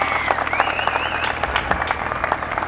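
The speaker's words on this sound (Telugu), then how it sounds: "ఆయన కోసం ఒకసారి గట్టిగా చప్పట్లు కొట్టండి" A crowd at a village gathering in Kothapalli applauds a singer with dense, continuous clapping, and a faint whistle and some voices sound over it.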